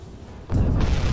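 A torpedo slams into a ship's hull in the submarine game UBOAT, a sudden deep, heavy explosion that swells out of a quieter rumble and keeps roaring loudly to the end.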